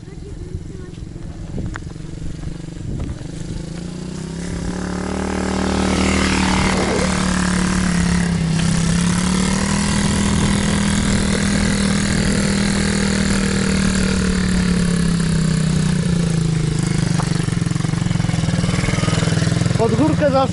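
A motorcycle engine idles, then revs up and holds a loud, steady roar up close, with people talking faintly underneath.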